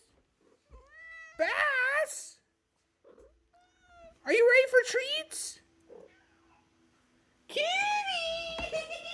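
Cats in the video game Tales of Arise let out several drawn-out, rising meows in separate bursts with quiet gaps between, while an excited voice talks and calls to them.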